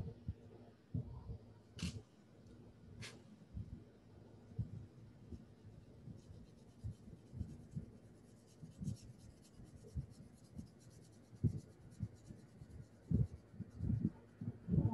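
Pencil drawing on paper during a beginner perspective drawing of a pier, with soft scratchy strokes in irregular bursts and a couple of sharp taps, close and fairly quiet, no talking.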